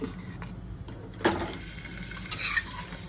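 Boiled eggs sizzle in hot oil with turmeric and chili powder, a close steady frying hiss with a sharp clatter as they drop in and light stirring scrapes afterward, no voices.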